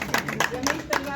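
Audience claps in scattered, irregular bursts at an album launch event for a collection of Urdu poetry, brief and close, with voices mixed in.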